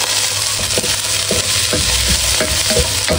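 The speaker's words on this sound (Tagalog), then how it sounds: "Igigisa ko na po itong ating ricado." Ginger, garlic, mustard greens and chili leaves sauté in a hot pan, a loud close sizzle with rhythmic scraping strokes of a stirring utensil. Nobody speaks.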